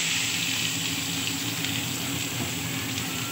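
Chopped onions sizzling in hot oil in a pan, a loud continuous hiss and crackle with scattered sharp pops, close and steady with no voices.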